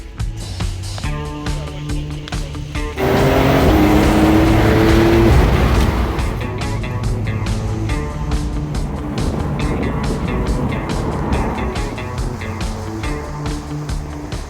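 A Porsche 911 Carrera 992.2 with a 3-litre twin-turbo six-cylinder boxer engine drives, the engine rising sharply as it accelerates hard, then settling into a steady loud cabin drone with rhythmic road ticks.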